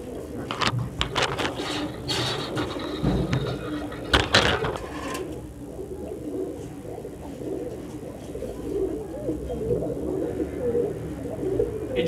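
A pair of green-neck highflyer Giribaaz pigeons cooing at a pet shop, with soft repeated coos over a busy background of rustling, clatter and a few sharp knocks, with some faint voices.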